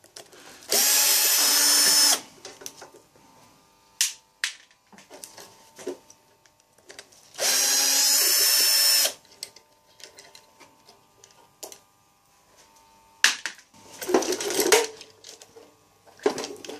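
Two bursts of a power screwdriver whirring as it unscrews a boiler's front panel, each about two seconds, separated by clicks and small handling noises of parts and tools nearby.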